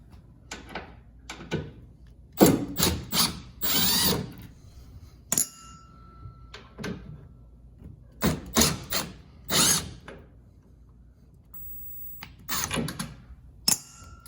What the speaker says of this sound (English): We should just be able to pop this taillight straight out after we remove those 2 screws